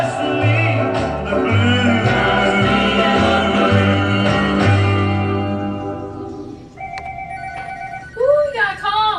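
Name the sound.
telephone ringing for a radio show caller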